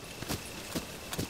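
Horse hooves in The Legend of Zelda: Tears of the Kingdom, three separate soft clops spaced about half a second apart, quiet and close, as a restless horse shifts and steps.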